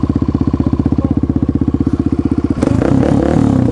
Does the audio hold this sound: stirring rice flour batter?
no